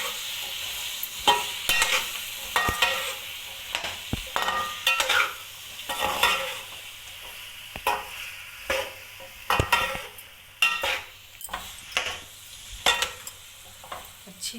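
Finely cut, triangle-shaped potatoes sizzle in a frying pan for aloo anda bhujia while a utensil stirs and scrapes them with repeated clinks and scrapes over a steady background hiss, with no voices.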